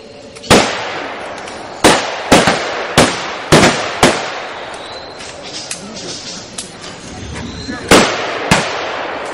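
Sharp gunshots crack one after another in an irregular volley during a reenactment of a UPA versus NKVD battle, loud and echoing, with a few spaced single shots later on.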